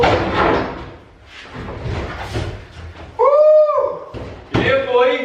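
Heavy thumps and bangs as a door is forced into place during fitting in a workshop unit, clustered knocks followed by loud strained voices.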